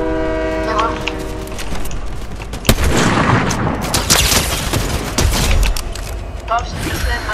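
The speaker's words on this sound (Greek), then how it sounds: "Εμένα πυροβολάνε." Gunfire in the Fortnite video game, a dense barrage of rapid shots with a sharp loud blast near the middle, over steady game sound and a tonal horn-like sound at the start.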